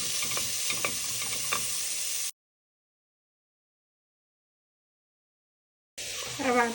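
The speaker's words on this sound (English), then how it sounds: "Saute it for exactly about few seconds, about 10 to 12 seconds" Ingredients sautéing in a pan for a creamy red sauce pasta, a steady broadband sizzle with stirring scrapes, cut off by a few seconds of silence before the frying resumes with a brief clatter.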